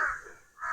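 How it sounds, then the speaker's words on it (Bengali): A single crow caws twice in quick succession, close and clear, amid a quiet, calm hillside setting at Nilachal hill in Cumilla. "কাকের ডাক শুনতে পাচ্ছি"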